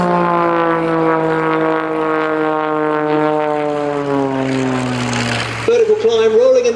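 Extra 330SC aerobatic propeller plane at an airshow, its loud, steady engine drone sliding slowly down in pitch as it rolls past, then a sharp change to a rougher, pulsing tone near the end.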